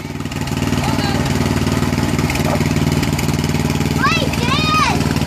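A ride-on tractor engine runs at a steady, close, chugging idle throughout, with a child's high-pitched voice rising over it near the end.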